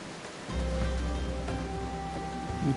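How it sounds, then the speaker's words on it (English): Steady rain falling in a video game set around the Gold Saucer, a continuous soft hiss of droplets that holds at an even level throughout. "Yeah, it's raining."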